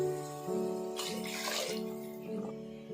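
Water pours into a cooking pot of rice and quail for quail biryani, a steady splashing burst in the middle over a faint background hum, fairly close and moderately loud.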